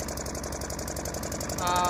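A large diesel tanker truck engine runs steadily nearby with a rhythmic knocking throb, loud and continuous, rising slightly at the end.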